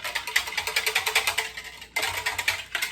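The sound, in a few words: whisking sauce with coconut aminos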